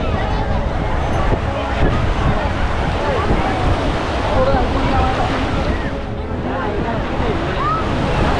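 Ocean waves wash onto a sandy beach in a constant loud rush of surf mixed with wind buffeting the microphone, while a faint background babble of voices drifts in and out.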